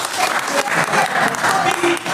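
A short burst of applause from a group, steady clapping filling the whole moment, fairly loud and close.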